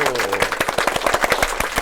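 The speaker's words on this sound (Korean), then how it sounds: "박수!" A group of children in a classroom claps hands in quick, uneven rhythm, many sharp close slaps in a steady run lasting under two seconds.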